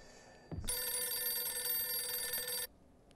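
A telephone rings in the horror video game Visage, a loud continuous electronic bell ring lasting about two seconds after a soft thump, close and clear with no talking.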